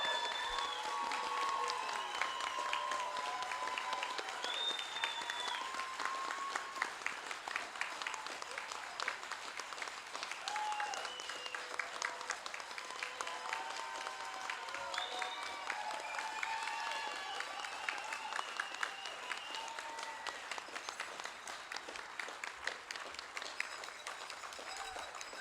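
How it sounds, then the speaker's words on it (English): An audience at a Coast Guard graduation ceremony applauds the new Bosun's Mate graduates, steady sustained clapping from a large crowd with scattered whistles and cheers, lasting well over twenty seconds at an even, moderate level. "Would you please join me in a round of applause for the graduates of Bosun's Mate RAP 2508 and 2509, newest Bosun's Mates in the Coast Guard."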